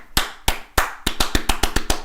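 Sharp clap hits from an EDM-style pop build: three widely spaced claps, then a tighter, speeding run of evenly spaced claps, dry and loud, with no voice over them.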